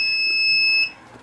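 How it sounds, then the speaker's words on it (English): An egg incubator's power-on alarm sounds as it is switched on, a steady high-pitched electronic tone held for almost a second before it cuts off, close and fairly loud. "you hear that alarm that lets you know that it turned itself on"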